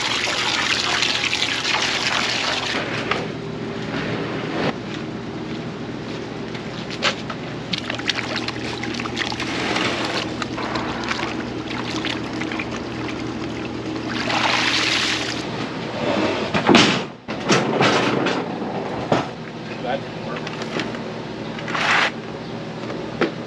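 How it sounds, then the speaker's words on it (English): Freshly picked pickles being rinsed with water on a vegetable farm, a continuous splashing, trickling wash with occasional louder gushes and brief pauses, no voices. "All finished with washing the pickles."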